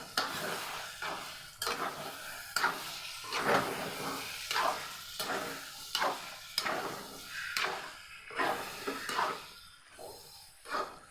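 Liver sautéing in a pan with masala for gravy: a steady sizzle punctuated by rhythmic scraping and stirring strokes of a utensil against the pan, roughly one every second, close and clear with no talking.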